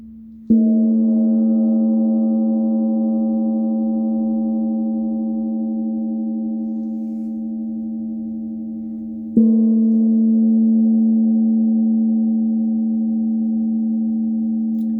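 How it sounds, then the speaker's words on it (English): A sustained metallic gong tone rings out, slowly fading, then is struck again and resonates with a steady, humming shimmer. "this fabulous new gong that I just acquired"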